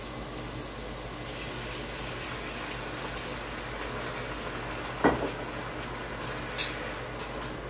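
Liquid is poured for a dessert at a cheap food stall, giving a soft continuous splashing trickle with a sharp clink midway and a couple of lighter taps later, close and modest in volume.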